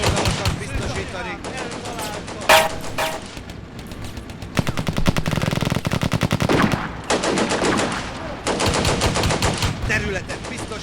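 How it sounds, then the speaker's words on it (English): Dense bursts of automatic gunfire aimed at a Hungarian Toldi light tank in the Combat Mission Barbarossa to Berlin wargame, rapid rattling volleys with brief pauses between them, loud and close throughout. "it's still firing on a Toldi"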